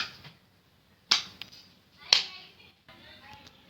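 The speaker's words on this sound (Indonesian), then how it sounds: "kita tepuk tangan untuk mengetahui apakah bayi terkejut atau tidak" Two sharp single hand claps, about a second apart, made near a baby during a newborn physical exam to test the startle reflex, with quiet room sound between them.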